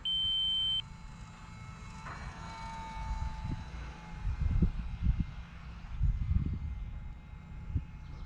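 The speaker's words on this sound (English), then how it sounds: "I think it's my 4-minute buzzer." A steady high electronic buzzer tone from a 4-minute flight timer sounds for about a second at the start of a ParkZone UMX T-28 RC plane flight, followed by wind rumble and faint motor whine outdoors.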